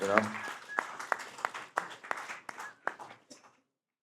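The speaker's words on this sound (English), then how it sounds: "I want you guys to give yourself a round of applause" A small audience at a New York venue claps in a scattered, thinning round, with voices over the first moments and the claps dying out before the end.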